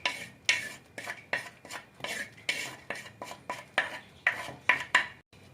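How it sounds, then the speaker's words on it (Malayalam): A spoon stirs fish curry ingredients with chilli and turmeric powder in a pot for a Kerala dried mackerel curry, producing a steady series of sharp metallic scrapes and clinks, close and alone. "എല്ലാം ചേർത്ത് നല്ലതുപോലെ ഒന്ന് ഇളക്കി പാകത്തിനാക്കി വെക്കുക."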